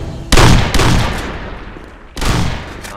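Shotgun fire in a video game, three loud heavy booms with decaying tails, close and spaced unevenly, the first two in quick succession and the third after a pause.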